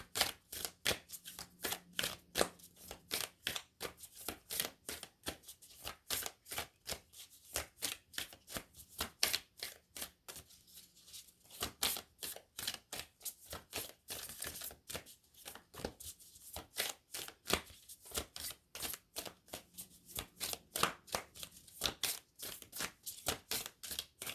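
An oracle card deck is handled and shuffled close up, giving a long run of rapid rhythmic riffling and flicking card sounds that continues steadily throughout without talking.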